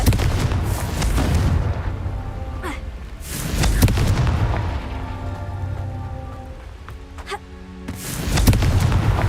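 Confringo explosion spells cast in the video game Hogwarts Legacy: several loud booming bursts with crackling, rain-like hiss and ringing tails, repeated at intervals over a dense game backdrop.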